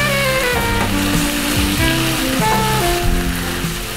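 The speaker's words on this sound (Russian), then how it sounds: "Сейчас сюда добавим сырые яйца. И хорошо перемешиваем." Raw eggs are stirred into stewed beans in a frying pan under a loud, continuous sizzle. Faint scraping from the stirring and a sustained tonal hum sit beneath the sizzle.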